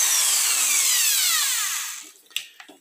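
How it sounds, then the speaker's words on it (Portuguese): A power drill bores the first hole for a homemade fishing rod holder, its whine sweeping steadily down in pitch as it spins down, followed by a few short knocks and rattles. "Vamos fazer um furo."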